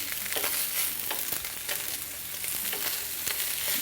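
Meatballs sear and brown in a hot pan with a loud, continuous hissing sizzle close to the mic, broken by occasional crackles and spatters, with no voices.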